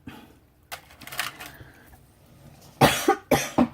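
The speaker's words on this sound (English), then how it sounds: "Yes, I've still got my cough." A few sharp coughs burst out near the end, loud and close, after a stretch of quiet with soft rustling.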